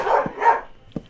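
A dog barks in the game Minecraft, two loud close barks in quick succession, then a short pause before a shorter third bark.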